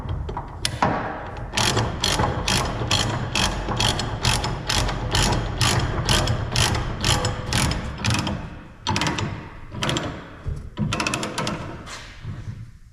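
Ratchet wrench snugging bolts back down on a salt spreader, a rapid run of loud, close clicks in repeated bursts with brief pauses between strokes, no talking.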